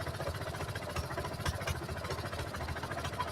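An ATV engine idles close by, a low, steady throbbing chug with rhythmic pulses and slight clatter, moderately quiet and alone without talk.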